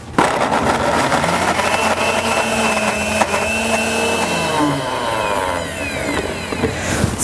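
A blender loudly whizzes caramelised red onion hummus with olive oil, a dense continuous motor whine that shifts in pitch as the blend smooths, up close and without talk.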